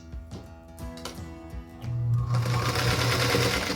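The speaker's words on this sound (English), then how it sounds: "I'm sewing here on my favorite little machine, my pink featherweight" A pink Featherweight sewing machine piecing a quilt block starts with a few light clicks, then breaks into a fast, steady whirring hum of stitching that runs close and clear to the end.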